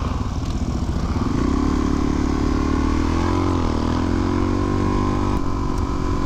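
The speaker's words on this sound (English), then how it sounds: "Because Chris can only go like 55 in the sidecar, in the Ural." A Ural motorcycle with a sidecar rides along a road, its engine droning loud and steady close by while the pitch rises and settles as it holds cruising speed, with wind rushing over it.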